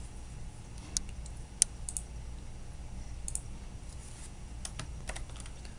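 A computer mouse clicks a few times, sharp and close, with scattered soft clicks and small taps against a quiet hum.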